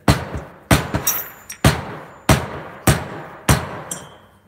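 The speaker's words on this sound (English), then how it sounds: "I'm gonna knock that plate back down and just call it a day" A hammer knocks a plate back down on a Predator 212 small-engine cylinder head: about seven sharp, close metallic strikes at uneven intervals, each with a brief ringing decay and no talking.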